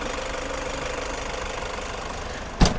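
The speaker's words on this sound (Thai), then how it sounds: "เราสตาร์ทเครื่องยนต์อยู่ค่ะ ฟังเสียงได้เลยนะคะ" A gray 2017 Toyota Commuter 3.0 diesel van idles just after starting, a steady, even engine rumble running close and continuous, with a single sharp knock near the end.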